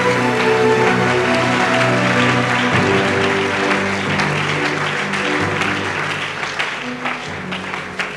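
A church congregation applauds loudly and steadily for Jesus during a prophetic worship service, with sustained dense clapping that tapers slightly toward the end and a faint voice and music beneath.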